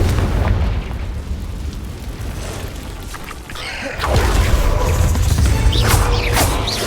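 Confringo fire spell explosion in Hogwarts Legacy, a loud fiery blast with crackling bursts and a heavy rumbling body amid ongoing combat noise.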